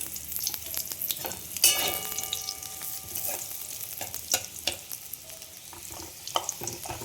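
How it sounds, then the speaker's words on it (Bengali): Fried potatoes with dried red chillies and bay leaves sizzling in hot oil, a continuous crackle punctuated by sharp pops and stirring clatter throughout, no one speaking. "আমি তার শুকনো লঙ্কা আর তেজপাতা দিয়ে দিলাম।"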